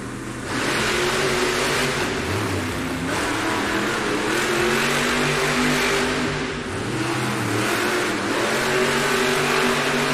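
Monster truck engines rev loudly and continuously at a Monster Jam racing event in a North Charleston arena. The deep, throaty roar holds steady for the whole stretch and rises and dips briefly a few times.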